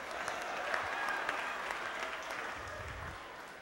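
Audience applause, a steady wash of many hands clapping throughout at moderate distance, with faint low murmuring underneath toward the end.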